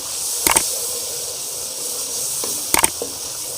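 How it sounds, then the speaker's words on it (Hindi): Water added to hot frying masala for Amritsari chole, giving a loud continuous steamy hiss with two brief louder bursts, like stirring scrapes, near the start and near the end. "दोबारा से मैं इसके अंदर पानी ऐड करूँगा ताकि मसाला जो है अच्छे तरीके से भून जाए।"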